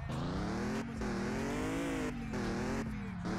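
Engine sound of a drifting car in the online driving game Drift King Online, a loud continuous engine drone that rises and falls in pitch, with short gaps, while someone talks over it.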